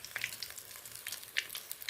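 Stuffed pointed gourd pakoras fry in hot oil, a close, continuous crackling sizzle with sharp spatters and pops.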